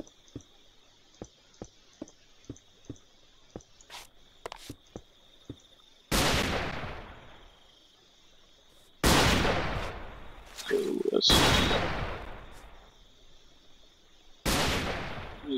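Gunfire in the Manufactio factory game: a run of quick, sharp clicks and taps, then several loud, broad bursts of shooting, each lasting a second or two, with a steady high tone underneath.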